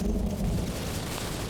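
A steady, heavy roll of thunder in a Vietnam-themed op in a video game, loud and continuous with no voices over it.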